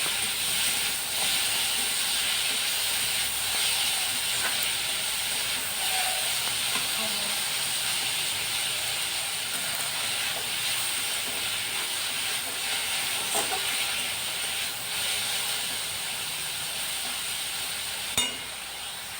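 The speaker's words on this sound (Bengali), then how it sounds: "একটু বেশিক্ষণ ধরেই ফুলটা নেড়ে চেড়ে ভেজে নিতে হবে" Drumstick flowers fry with onions in a wok, giving a steady, dense sizzling hiss that runs throughout, with a few faint clinks from stirring.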